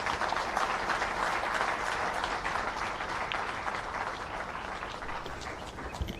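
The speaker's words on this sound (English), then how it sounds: "Another round of applause." Steady, dense applause from a seated audience following a memorial lecture address, loud and continuous for several seconds with no voices over it.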